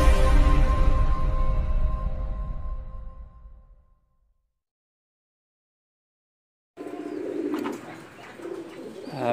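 Domestic pigeons coo, including a female kept at home with a bound egg. A loud stretch of cooing and rustling fades out, then there is about two seconds of silence before more close cooing resumes.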